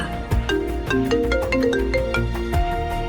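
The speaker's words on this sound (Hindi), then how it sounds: "जैसे ही लैंड हुई, उसके पापा गौतम का उसे फोन आया।" A melodic ringtone plays a repeating chime pattern, steady and fairly loud, with a low background hum and no talking.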